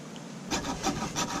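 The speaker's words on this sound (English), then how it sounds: "Now we're gonna see how well this hacksaw works." Hacksaw cutting through the jaw of a cubera snapper: a few short rasping strokes, close and fairly quiet, in a quick back-and-forth rhythm.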